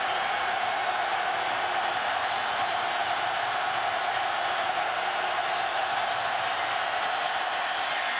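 A packed college football stadium crowd at Iowa State, Oklahoma State visiting in 2011, roars in a steady, loud wash of cheering and shouting that holds without letup.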